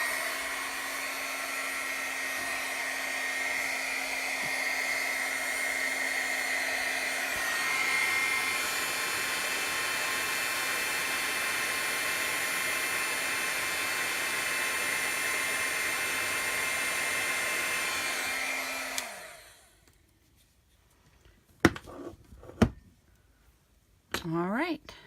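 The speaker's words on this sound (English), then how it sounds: "Grab my heat tool, turn it on, let it warm up for a few seconds," A handheld heat embossing tool blows steadily and loudly for about nineteen seconds to melt embossing powder, with faint clinks underneath, then cuts off and winds down, leaving a few sharp taps and knocks in near silence.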